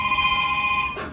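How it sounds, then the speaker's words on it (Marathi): A telephone rings at home with a bright, steady electronic tone, close and loud for about a second before it cuts off. "एक मिनिट, मला फोन आला."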